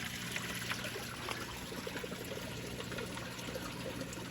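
Water from a bell siphon overflowing from one backyard pond tank into another at night, a soft continuous trickle and splash, faint and steady with no voices.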